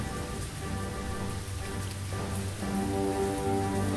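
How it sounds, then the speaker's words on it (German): Steady, dense rain pours down in the Lost Horizon adventure game, an even hiss of drops that carries on without a break, with a soft low music bed underneath. "Wenn der Regen nicht nachlässt, wird."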